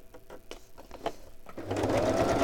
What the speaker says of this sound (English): I'll just stitch around this, and then it will just have double stitching on it